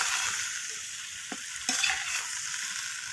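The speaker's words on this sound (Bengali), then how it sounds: "তো এরপর আমি এখানে বেগুনগুলো দিয়ে দিলাম।" Peas and eggplant frying in a pan while being stirred, for a whole-vegetable Saraswati Puja dish: a steady, fairly quiet sizzle with a few soft stirring scrapes near the middle, no talking.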